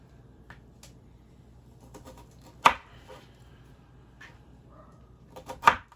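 A knife chops Brussels sprouts on a board in a home kitchen, with sparse, irregular cuts and two sharp, louder strikes standing out against a quiet background.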